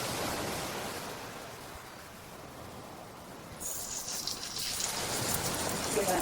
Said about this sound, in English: See that nice sizzle?